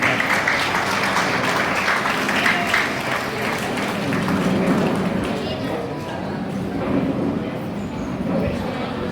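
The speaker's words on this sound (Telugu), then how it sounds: "చప్పట్లు కొట్టండి, చప్పట్లు" Audience at a book launch ceremony for a teacher's biography claps steadily for the whole stretch, a dense, even wash of hands with crowd murmur mixed in.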